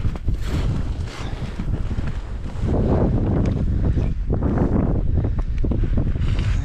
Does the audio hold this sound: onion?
no